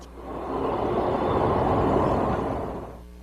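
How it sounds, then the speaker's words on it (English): A trolley streetcar rolls along a city street, a deep rumbling roar of wheels on rails that swells up as it passes close by, holds, and then fades away. "Sometimes trolleys are called streetcars."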